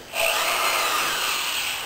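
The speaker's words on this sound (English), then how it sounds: "Now I'm going to drill the holes, and this whole edge will be done." A power drill bores a hole into a wooden panel along marked layout lines, starting with a sudden high whine that holds steady and close for nearly two seconds.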